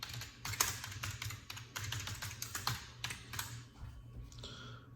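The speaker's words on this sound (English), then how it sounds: "let me type this in." Keys on a computer keyboard clatter in quick, irregular bursts of typing, close and moderately quiet, tailing off near the end.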